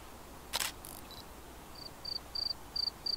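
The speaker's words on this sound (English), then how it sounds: "Yo, the cricket, bro" Crickets chirp in a video game, a few short high trills repeating in evenly spaced bursts after a brief bright click, faint and steady over quiet background hiss.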